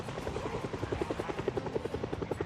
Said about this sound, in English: the entire goal here is to just use the helicopter to make a bunch of noise